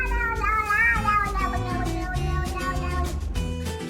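A grumpy gray cat gives long, drawn-out meows up close, with several wavering calls running together over background music.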